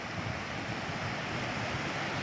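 Floodwater surges through streets after heavy, continuous rain in Rajasthan, a steady loud rushing roar with no breaks and no voices.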